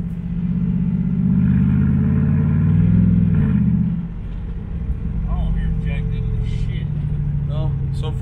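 A V8 engine-swapped Mazda driving on the road, heard from inside the car: a loud, deep engine drone that rises, then eases off after a few seconds, with someone talking over it.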